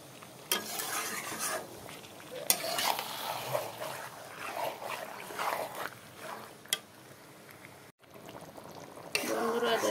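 Chicken sautéing in a pan on a home stove, a steady soft sizzle broken by scraping stirs and clinks of a utensil against the pan, with a voice speaking now and then over the cooking.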